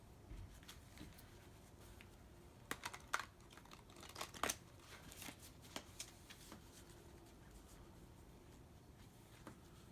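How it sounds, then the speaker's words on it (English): Playing cards are shuffled close up in soft, irregular flurries of riffling and tapping, quiet throughout with no voices. "I will shuffle the cards."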